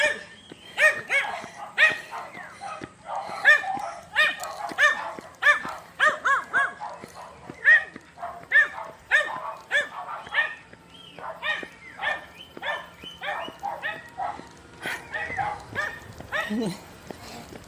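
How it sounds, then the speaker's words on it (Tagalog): A dog barks and yips in quick repeated bursts close by, some bursts sounding whiny, while a person talks and calls out over the barking. "May doggy!"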